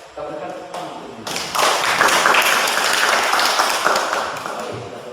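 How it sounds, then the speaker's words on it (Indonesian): Classroom applause as students clap together, a few scattered claps at first swelling into a sustained round of clapping that carries on steadily, with some talking underneath. "Kita berikan tepuk tangan untuk ini."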